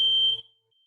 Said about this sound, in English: the fire alarm is going on.